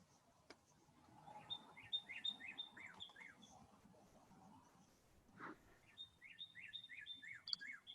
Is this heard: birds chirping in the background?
yes